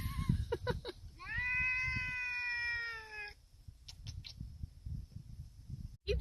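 A rescued stray cat meows inside a car, one long drawn-out plaintive wail close to the microphone, set among shorter muffled rustles and cabin noise.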